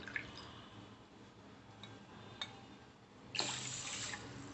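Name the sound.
water being poured into a pressure cooker with rice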